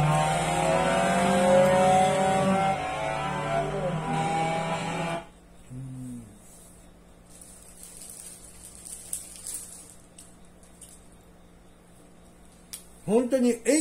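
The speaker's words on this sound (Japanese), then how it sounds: "本当にエンジン回してるって感じなんだよね。" A car engine in Gran Turismo 7 revs loudly with rising, whining harmonics for several seconds, then cuts to near quiet, and a voice briefly speaks at the very end.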